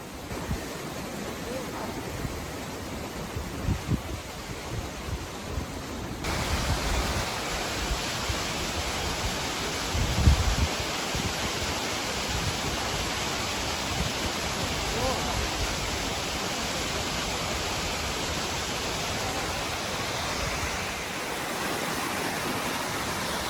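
Rushing water of the Corrieshalloch Gorge waterfall in Scotland, heard from high above a 200-foot drop as a steady, broad roar that runs unbroken throughout with some wind buffeting the microphone.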